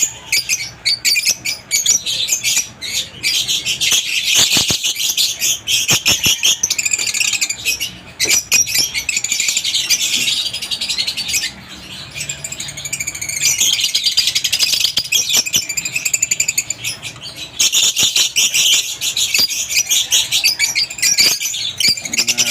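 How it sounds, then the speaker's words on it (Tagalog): A flock of African lovebirds in an aviary keeps up dense, nonstop squawking and shrill chirping, loud and close, with a few brief dips in the racket. "mga African lovebird."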